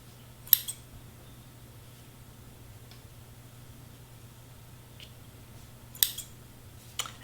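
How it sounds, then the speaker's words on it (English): Scissors snip through pink string, a short crisp cut near the start and two more quick snips at the end, isolated against a quiet room with a low steady hum. "let's cut some pink string"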